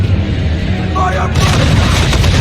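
Heavy ship cannons fire from a sailing warship during an American Revolutionary War naval battle in Assassin's Creed III, a sudden loud boom erupting midway over rumbling sea ambience and voices.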